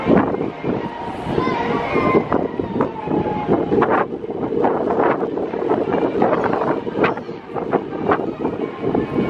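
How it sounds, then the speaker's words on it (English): Strong wind buffets the microphone on the open deck of the Disney Dream cruise ship at sea. The gusts roar steadily and loudly throughout, with voices faintly mixed in. "It's just still really windy today."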